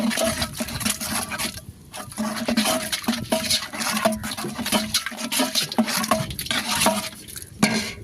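Water splashes and sloshes into a pot of meat and intestine curry as it is stirred, irregular scraping and liquid bursts close by at moderate volume with brief pauses.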